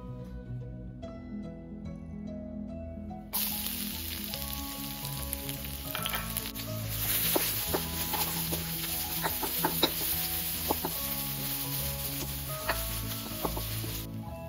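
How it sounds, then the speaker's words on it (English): Pounded garlic cloves sautéing in oil in a large pan or wok, a loud steady sizzle and crackle running throughout with frequent sharp pops, close and alone without talk. "add the pound garlic cloves to the oil and saute it for a minute"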